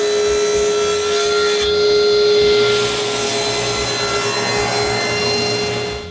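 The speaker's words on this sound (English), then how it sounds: "Now that the glue of both front and back is dry, I trim both of them to their final size." Glued wooden supports for a wooden jointer plane being trimmed to final size, a steady loud sawing or rasping rub on wood that runs continuously throughout with no pauses.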